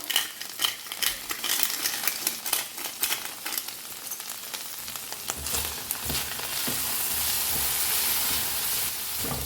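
Sweet corn kernels seasoned with salt, thyme, oregano and pepper tossed in a pan: a run of quick rattling scrapes and clatters, then a steady loud sizzle as it cooks.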